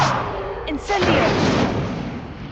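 A fire spell cast in Hogwarts Legacy: a sudden whooshing burst that swells into a broad, roaring rush of flame and then fades, loud and close.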